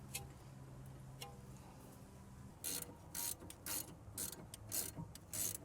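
A hand ratchet clicks in short bursts while tightening the strut nut on a Mercedes ML350, crisp close rapid clicking in about six quick runs after a quieter stretch of faint mechanical hum, no talking.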